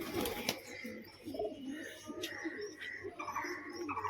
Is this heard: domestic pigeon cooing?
yes